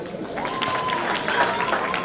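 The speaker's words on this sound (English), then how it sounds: "Please give me a round of applause again, please." Round of applause from guests at a 60th birthday party, moderately loud and even, with a crowd murmur and a voice mixed in.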